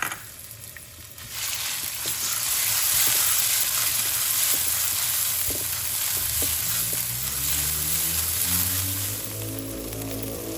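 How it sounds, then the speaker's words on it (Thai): A loud, steady sizzle of chili frying in hot oil in a pan, starting abruptly after a brief quiet moment and continuing with occasional clinks of a utensil. "ใส่น้ำมันตั้งกระทะให้ร้อนนะคะ ใส่พริกลงไปเลยค่ะ"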